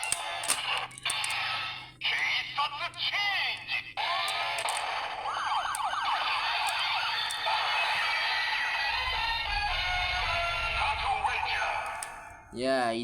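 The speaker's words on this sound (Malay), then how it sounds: "Ini adalah suara Henshin semula." A Patranger VS Changer transformation toy sounds its henshin effect: electronic bleeps and a siren-like wail, then synthetic chimes and whooshing tones, played loud and close with a low rumble near the end.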